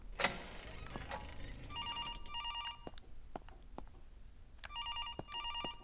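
A telephone rings in the horror video game Infliction, repeated bursts of bright electronic trilling in two spaced groups, with scattered clicks and knocks between the rings and no talking.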